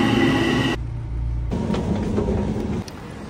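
Commuter train at a station platform in Queens, New York, bound for Manhattan: a loud rolling rumble with brake and wheel squeal, dropping to a lower steady hum, then rising again as cars pass.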